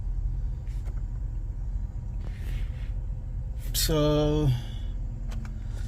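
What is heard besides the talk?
Pontiac Grand Prix GXP car driving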